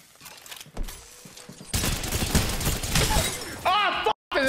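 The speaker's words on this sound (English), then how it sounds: "I got shot by 2 teams at the same time." Gunfire from two enemy squads in the battle royale game Apex Legends erupts into a dense, continuous fusillade of overlapping shots, loud and close, with a brief cutout near the end and a voice audible toward the close.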